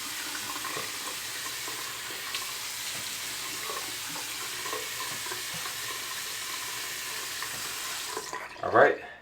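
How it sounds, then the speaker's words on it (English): Warm water running from a tap into a sink while someone wets their face, a steady hiss of flow with faint splashes, ending in a short sharp clatter. "I got my face wet with warm water"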